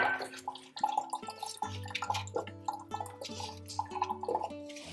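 Water trickles and drips steadily as it drains out of a freshly watered indoor houseplant pot, close and fairly quiet, with a continuous tonal hum underneath.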